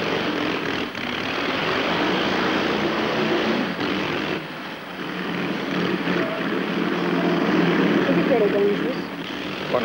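Motorcycles roar in continuous trick and fancy riding around a Wall of Death at a 1951 fairground show, a loud sustained engine drone that swells and dips as the racers circle, with crowd noise underneath.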